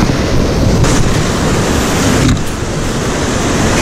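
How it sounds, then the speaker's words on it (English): Strong wind of about 30 knots blasts across coastal rocks by the sea at dusk, a loud continuous roar with buffeting gusts and surf mixed in, with no talking. "the wind just comes up as it's getting dark. It's just blowing it right across these rocks."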